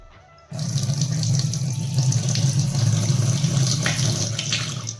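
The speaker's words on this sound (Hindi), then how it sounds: "अब एमा डालना है 1 गिलास पानी" After a brief quiet moment, a glass of water is poured into a steel pot, a loud, steady splashing rush that continues to the end.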